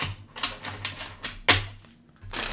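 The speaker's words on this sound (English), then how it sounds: "Going to do one quick shuffle" A deck of tarot cards is given one quick shuffle, close up, making a few sharp papery riffles and flicks in short bursts with brief pauses between them.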